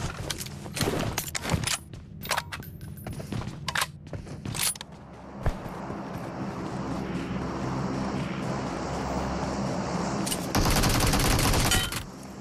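Rapid bursts of gunfire ring out in a shooter video game, loud, dense volleys in the first few seconds, then a pause under a droning engine hum before another sustained burst of fire near the end, with no speech.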